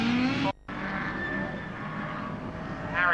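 Ford Escort and Fiesta race cars roar past at Snetterton circuit, loud engine drones rising and falling through gear changes, with a brief cut near the start and another car approaching at the end.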